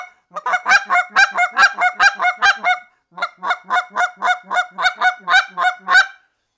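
Someone blows a goose call to imitate lesser and cackler geese, giving rapid high honks and cackles in two loud, close bursts with a short pause between them.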